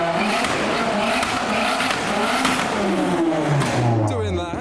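Nissan 350Z convertibles rev hard and roar past nearby, the engine note loud and rising with a squealing sweep near the end, under people talking.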